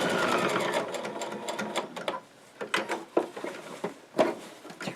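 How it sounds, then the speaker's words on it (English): Sewing machine stitching down a folded strap on a market tote bag, a loud whirring run that stops and restarts in short bursts, close up, with no talking. "we're stitching it down, double stitching it to the bag"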